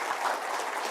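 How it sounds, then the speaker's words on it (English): Applause from an audience of educators at an academic summit, a dense steady wash of many hands clapping together, fairly loud and unbroken across the moment. "can we give a big round of applause for every educator here?"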